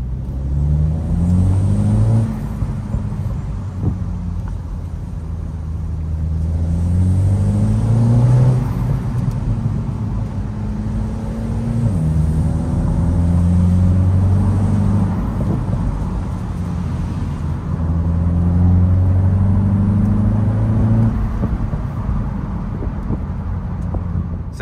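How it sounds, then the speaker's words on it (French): A Mini Cooper S Cabrio petrol engine revs and accelerates repeatedly on a road outside a village, its drone climbing in pitch through the gears, then dropping and rising again, loud and steady throughout. "on peut faire un petit peu rugir le moteur"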